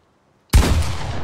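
A sudden loud burst of gunfire from a pump shotgun in a video game, breaking out of near silence with a heavy boom and a sustained, rumbling roar that stays close and strong.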